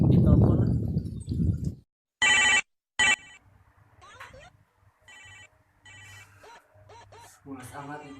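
Telephone bell ringing in two short, loud bursts after a stretch of noisy talk, followed by quieter voices with occasional faint rings.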